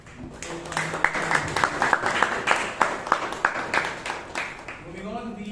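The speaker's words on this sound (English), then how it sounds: "Big round of applause for" Applause at a Toastmasters meeting in Bangalore: a room of people clapping steadily at moderate volume for several seconds, tapering off as a voice begins speaking at the end.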